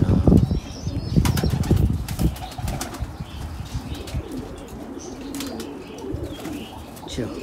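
Budgerigars in an aviary flap their wings in a loud burst at the start, followed by a steady background of chirps and rustling movement.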